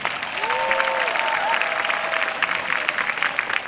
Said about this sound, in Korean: 여러분들 큰 박수 부탁드리겠습니다